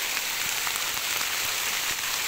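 Heavy rain pours onto a sugarcane field, a steady loud hiss of falling water with occasional sharper drops, unbroken and without voices.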